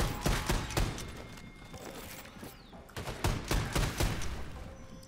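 Rapid bursts of gunfire in the video game Wolfenstein 2, repeated volleys of shots clustered at the start and again near the end, loud and continuous with no speech.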